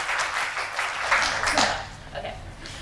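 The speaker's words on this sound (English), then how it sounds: "why don't we actually give a round of applause to Heidi?" Audience applause for Heidi at an Indigenous governance talk: a short burst of clapping from a moderate crowd, fairly soft and fading slightly toward the end.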